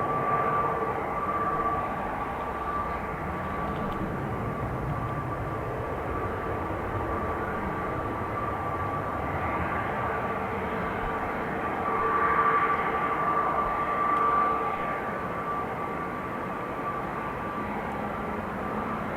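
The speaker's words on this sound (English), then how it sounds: "It's a harmonic resonance that emits from the engine." An airliner with Pratt & Whitney engines at an airport gives off a droning harmonic resonance, a steady tonal hum over broad engine roar that swells slightly midway, with no talk.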